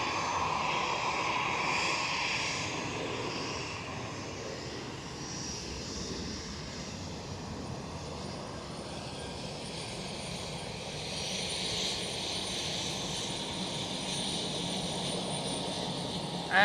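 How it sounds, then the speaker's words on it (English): A KLM Boeing 737 rotates off the runway at Amsterdam Schiphol, heard as a distant, fairly soft, steady jet engine rumble and whine that rises a little toward the end. "KLM 737 rotate already"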